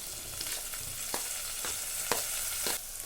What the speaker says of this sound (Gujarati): અહીંયા મરચાં, આદુ, લસણ, ડુંગળી બધું સતરાઈ ગયું છે